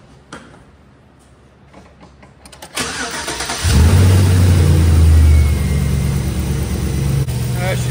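A 2006 Chevrolet Silverado truck engine cranks and fires up inside a shop, then settles into a loud, steady rev that holds near and strong; quieter sounds and faint talk come before the start.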